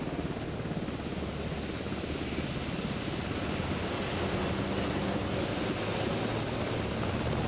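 Helicopters in the House of Ashes horror game fly off with a dense, steady rotor roar and rumble that fills the whole stretch at constant loudness, close and without voices.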